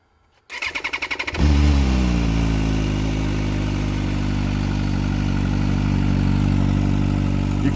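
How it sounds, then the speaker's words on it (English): A stock MV Agusta motorcycle with its organ exhaust cranks in a rapid run of starter pulses, then fires into a loud, steady, close idle rumble that carries on alone. "we're going to start it up and listen to it anyway"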